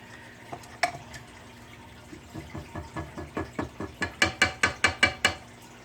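A stand mixer with a Flex Edge beater stirring mandarin orange cake batter, giving a rapid, evenly spaced run of clicking, ratcheting strokes that grow louder and sharper.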